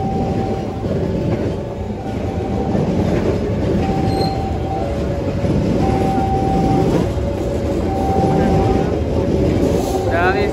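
A CC206 diesel locomotive hauling a train rolls into Tugu station in Yogyakarta, a loud steady rumble of wheels on rail with recurring high tonal squeals from the wheels, close by throughout.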